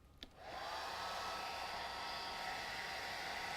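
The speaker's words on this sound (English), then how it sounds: "So, a hairdryer." A hairdryer switched on after a click, its airflow quickly rising to a steady, loud whooshing roar that holds without a break.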